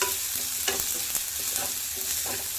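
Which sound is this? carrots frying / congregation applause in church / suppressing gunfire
carrots frying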